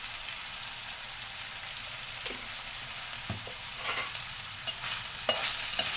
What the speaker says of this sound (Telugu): ఉల్లిపాయలు రంగు మారే వరకు దూరగా వేయించాలి.